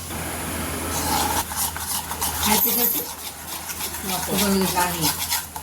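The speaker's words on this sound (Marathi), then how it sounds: "छान असं एकजीव करून घ्यायचं." A spoon stirs and scrapes through chocolate brownie batter with sugar in a bowl, close and fairly loud, in repeated uneven strokes of wet scraping.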